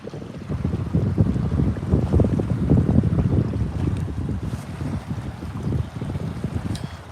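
Gusty wind buffets the microphone at a reservoir in fall, a loud, uneven rushing that swells and eases.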